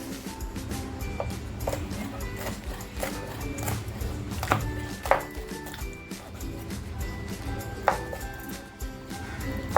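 Knife cutting cleaned squid into rings on a board, a series of irregular light chops and taps close by, with no talking.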